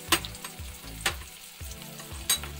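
Tomatoes fry with salt and red Kashmiri chili powder in a hot pan, giving a steady, close sizzle. A few louder stirring scrapes break through it.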